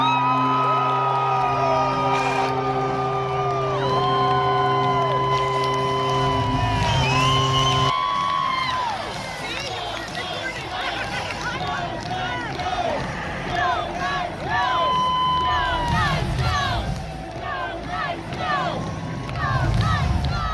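Crowd at a Vegas Knights hockey game in Las Vegas: steady arena horn or organ tones at first, then a loud, sustained roar of cheering, whoops and whistles that fills the rink.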